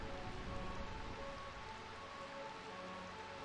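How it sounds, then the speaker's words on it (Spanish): Steady, dense rainfall pours in the eternally rainy Burmecia of the video game Final Fantasy IX, an even hiss of drops on surfaces held at a constant level throughout with no voices. "Numencio, el reino de la lluvia eterna."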